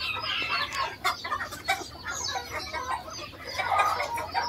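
Ma Lai fan-tailed ornamental chickens clucking at a small farm, soft overlapping clucks and chatter at moderate distance over steady background noise.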